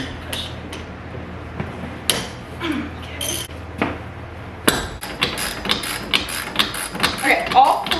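A wrench breaks loose the four bolts on a car's wheel hub during a 5-lug hub conversion, giving sharp metallic clanks and knocks close by, mixed with talk.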